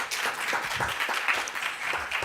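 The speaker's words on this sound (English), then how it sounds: "another round of applause for Rhea." Steady applause from an audience at a congress session, a continuous patter of many hands clapping at moderate loudness with no talking over it.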